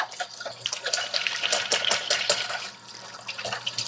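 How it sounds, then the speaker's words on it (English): Hands being washed under a running kitchen tap after handling raw eggs, a steady close water stream with splashing, alone without talk. "anytime you do, handle eggs, you want to wash your hands up"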